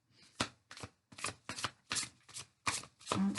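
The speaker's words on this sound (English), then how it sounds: "I'm going to pick some cards for you and some cards for the person that you're dealing with" Tarot cards handled and picked in a series of quick papery riffles and slides, about seven short bursts close to the listener, separated by brief pauses, with no talking.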